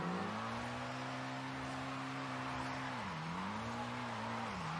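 A steady, droning car engine in Forza Horizon 5 holds a constant pitch, dipping briefly twice as the tires burn out, with continuous broadband tire hiss throughout and no talk.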